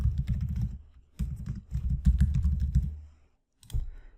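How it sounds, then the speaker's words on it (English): Someone types on a computer keyboard, entering an email address into a Microsoft Access 2016 form: close, rapid bursts of clattering key clicks separated by short pauses, with no talking. "And then type in their email."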